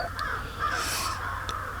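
Crows cawing on an October morning in Oklahoma woods near a hunting blind, two short distant caws heard alone over quiet outdoor background.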